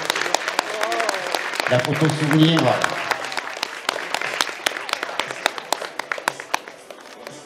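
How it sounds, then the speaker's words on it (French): Spectators applaud at an outdoor dog show, with scattered claps running throughout, a voice speaking briefly over them midway, and the clapping growing sharper and more distinct near the end. "donc on peut l'applaudir"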